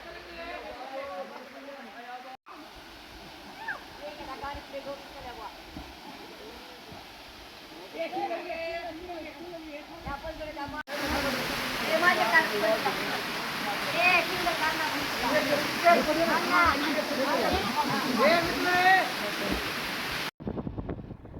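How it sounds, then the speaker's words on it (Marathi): A small waterfall, with schoolchildren bathing beneath it, gives a steady rushing wash of falling water that grows louder partway through, and people talk over it. "इथे एक छोटासा धबधबा दिसला"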